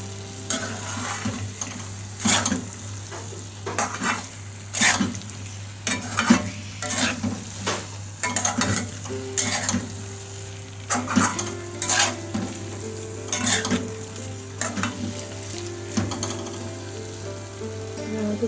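Fried paneer cubes are stirred through a masala in a pan, with repeated spoon scrapes and clinks against the metal over a continuous sizzle, close and rhythmic.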